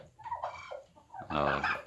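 A broad-breasted white turkey gobbles in one loud, rattling burst near the end, after a shorter, softer call at the start, with no talk.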